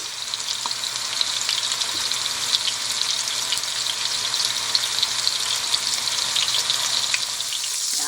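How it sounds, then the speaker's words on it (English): Beef stew meat browning in a pot, a loud continuous close-up sizzle with fine crackling pops throughout, steady and unbroken with no voices. "flip it over and let that brown up"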